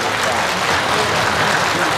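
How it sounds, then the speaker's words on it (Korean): Loud, dense applause from a seated audience at the opening ceremony of the Yeoju ceramics festival, a continuous close wash of clapping with no pauses. "모두에게 큰 박수를 함께 나눠주시기 바랍니다"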